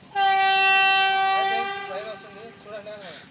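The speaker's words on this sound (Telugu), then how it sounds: "మరి ఇప్పుడే ట్రైన్ వస్తుండదు కదా" A train sounds a loud, sustained horn blast at a railway gate, a steady harmonic tone lasting over a second before fading, followed by passing rail rumble with speech mixed in.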